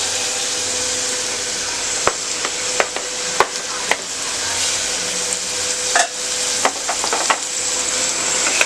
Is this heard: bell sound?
no